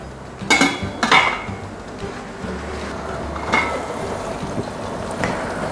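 Pork shumai dumplings are set into a metal steamer pot with a few close clanks and clinks of metal on metal, two louder knocks early and softer taps later, over steady kitchen background noise.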